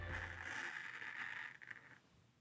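Hair shears pushed through a section of hair with the blades held open, a soft, close, ripping scrape lasting about two seconds and tapering off, with no one speaking.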